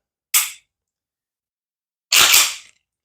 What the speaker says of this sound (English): we're going to pull the trigger. You should hear a click